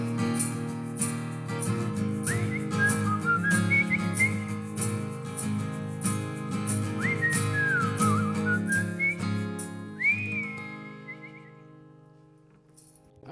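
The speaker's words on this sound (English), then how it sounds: "is that whistling is something you've incorporated into your music?" Melodic whistling from a duo carries a rising, sliding tune over a full band and sung music during a live in-studio performance, loud and close, with the whistled phrases recurring across the song before the music fades.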